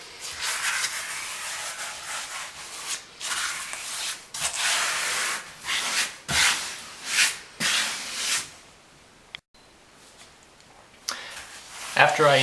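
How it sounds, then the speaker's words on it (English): Repeated wiping strokes over ceramic floor tiles as excess grout is pushed off the tile faces, giving close, gritty rubbing bursts separated by short pauses. "I'll wipe the excess from the flats of the tiles and reapply it in the cracks."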